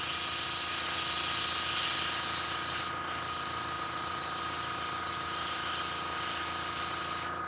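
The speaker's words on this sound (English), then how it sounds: "That's a really good spray pattern." Spray paint hisses steadily from a can or airbrush onto a Gaslands model car, working around an armor plate, a close, continuous broadband spray with a brief dip partway through and no talking.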